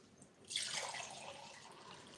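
Water is poured into a half-litre glass jar, starting as a sudden gushing splash and settling into a steady, fairly quiet trickle that fills the rest of the moment.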